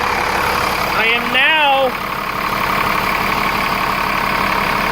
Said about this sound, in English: you're going to hear a little bit of change in the engine RPM